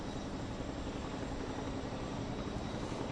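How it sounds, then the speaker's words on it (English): A helicopter ferrying one-ton sandbags to a dam during major flooding, a steady broadband rotor and engine roar that holds constant throughout, fairly distant and even. "The helicopter here is bringing over sandbags"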